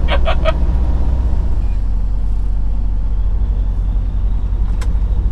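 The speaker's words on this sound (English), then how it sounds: "Driving a truck across America and having fun." A truck rolls along an American highway with a steady, loud low engine drone and road rumble throughout, and a few brief higher-pitched clicks near the start.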